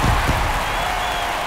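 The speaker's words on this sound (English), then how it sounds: "That fires up the home crowd, and they throw a pair on the board" Home baseball crowd at a White Sox versus Guardians game cheers and applauds after a home run, a loud, broad roar that starts strong and stays level.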